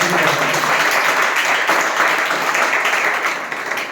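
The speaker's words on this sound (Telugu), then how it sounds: "చప్పట్లు కొట్టండి, గట్టిగా చప్పట్లు కొట్టండి" A Sunday worship congregation applauds loudly: dense, continuous clapping that stays strong for the whole stretch and eases slightly near the end.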